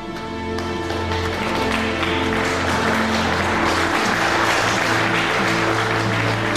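Applause from an assembled audience following an announcement of the Suez Canal construction, a dense wash of clapping swelling over a sustained musical background, loud and continuous.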